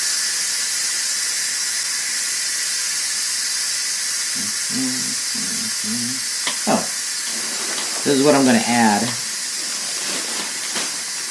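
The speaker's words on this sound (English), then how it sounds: "I'm going to push the top and let all the steam out." Continuous high hiss of steam venting from an Instant Pot's pressure release valve after chicken curry has cooked, steady throughout while a person speaks briefly in the foreground partway through.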